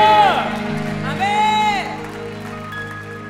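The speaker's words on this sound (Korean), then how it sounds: "우리 주님께 감사와 영광의 박수를 드립시다." A congregation applauds during a Korean church worship service, short bursts of clapping mixed with whoops and tonal sung or held vocal sounds, fairly close and fading toward the end.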